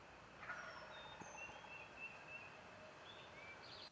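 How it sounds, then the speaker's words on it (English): A wild eastern turkey gobbler in a Virginia spring woods lets out a loud, close gobble, a rapid rattling burst standing out over steady background hiss and faint birdsong, with no talking. "the turkey gobbled and he was right on top of us"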